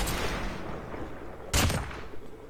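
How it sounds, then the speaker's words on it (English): A Thermite Mag hit effect and rapid vaporization kill effect from a mobile shooter game: a steady loud rush of weapon fire, then one sharp, bright, louder burst about midway that trails off. "Hit effect of Thermite Mag and kill effect of rapid vaporization."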